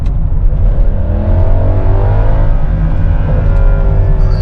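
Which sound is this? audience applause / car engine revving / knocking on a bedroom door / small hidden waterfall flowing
car engine revving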